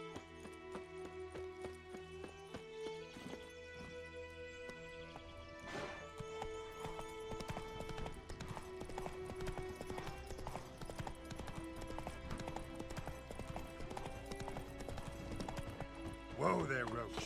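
Roach the horse gallops in Witcher 3, with steady rhythmic hoofbeats carrying through the whole stretch over a layered game soundtrack, a short snort or whinny breaking in near the end.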